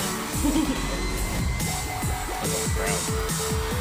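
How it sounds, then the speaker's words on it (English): A concert crowd at a stage performance roars and cheers continuously, with loud shouts and whoops rising over pulsing music. "That crowd is going nuts."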